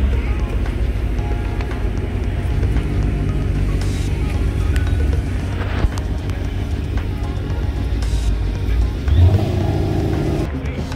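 A Maserati GranTurismo engine runs loud and close at an Orlando cars-and-coffee meet, holding a sustained roar with a brief swell near the end amid outdoor crowd ambience.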